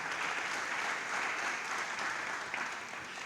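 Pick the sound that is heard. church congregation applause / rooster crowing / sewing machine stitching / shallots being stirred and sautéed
church congregation applause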